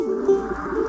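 Soft, low cooing of pigeons up close, a brief throaty call over a steady murmur of background noise.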